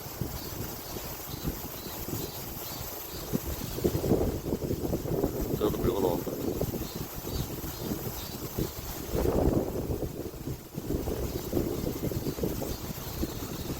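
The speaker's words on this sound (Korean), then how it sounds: "유람선이 파도를 가르면서 온다" Wind buffets the microphone in gusts near a rough sea as a cruise ship cuts through the waves, a churning wash of water and rushing air, with voices talking intermittently over it.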